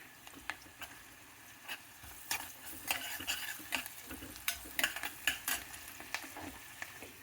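Softened onions fry with ginger garlic paste in a pan, a soft sizzle broken by repeated spatula stirring clicks and scrapes, fairly quiet and close.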